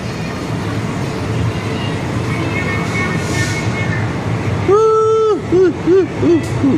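A train runs through a dark, concrete-lined tunnel near Trivandrum Central with a steady, loud rumbling roar that fills the space, then strong rising and wavering tones break in near the end.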